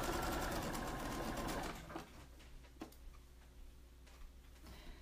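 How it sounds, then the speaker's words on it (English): Sewing machine stitching the hem of a formal dress, a loud, fast whirring run for the first two seconds, then stopping to leave quieter clicks, taps and a low hum. "Stitching right along now."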